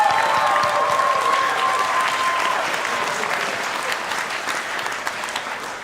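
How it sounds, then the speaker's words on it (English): Audience at a nursing pinning ceremony applauds in a dense, sustained wave of clapping that fades slightly toward the end, with a faint tonal whistle or feedback line early on. "One last round of applause."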